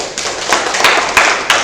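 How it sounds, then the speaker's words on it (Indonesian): A small group claps at the close of a classroom lesson, a soft patter of hands with a few louder peaks, fairly near, short and steady. "Tepuk tangan untuk kita semua."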